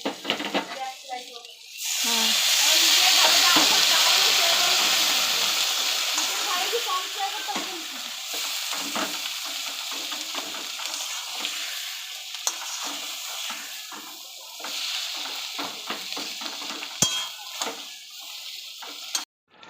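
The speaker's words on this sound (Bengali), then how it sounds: "দেখো গুড়টা কী সুন্দর ফুটে এসেছে ভালোভাবে ফুটাতে হবে অনেক সময় ধরে ফুটাতে" Jaggery and mango pieces boil together for a mango masala pickle, giving a steady loud bubbling sizzle with occasional stirring scrapes throughout.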